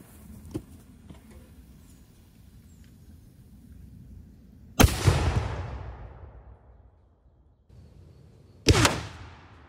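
A 3D-printed rocket-powered tank round fires with a sharp, loud blast, then a long roaring whoosh that fades out, and a second loud report follows a few seconds later. Faint clicks come before the first shot, and there is no speech.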